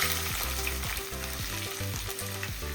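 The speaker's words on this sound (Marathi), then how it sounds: "कांदा आणि टोमॅटो लाल होईपर्यंत थोडा भाजून घ्यावा" Onion and tomato fry in hot oil with curry leaves, a dense, steady sizzle that fills the clip at even loudness, with a repeating tonal pattern running underneath.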